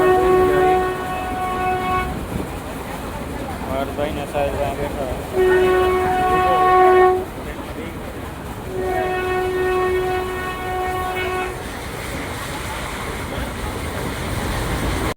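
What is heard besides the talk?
train arriving at station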